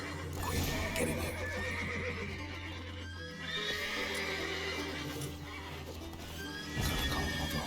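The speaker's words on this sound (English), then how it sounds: "Gotta calm all the horses before they wake the guards." Horses neighing and whinnying in The Witcher 3: Wild Hunt, several loud overlapping calls over a dense bed of stamping hooves and clatter, with no speech.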